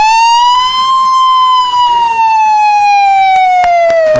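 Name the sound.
child imitating a police car siren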